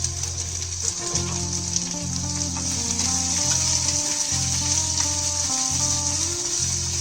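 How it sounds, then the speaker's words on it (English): Onions and red chilies frying in hot oil for a spinach sambhar, a steady close sizzle running throughout with faint clinks beneath it and no talking. "We're going to fry this onion in this till it's translucent."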